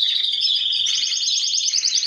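Small birds in an aviary chirp and twitter continuously in a dense, close chorus of rapid high tweets that grows busier toward the end, with no voices.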